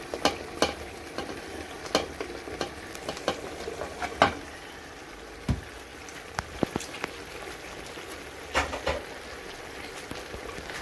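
Capsicum being stir-fried in a pan for a Chinese-style chicken and black bean sauce dish, with a steady sizzle broken by irregular scraping and clattering stirs, close and fairly quiet, no talking.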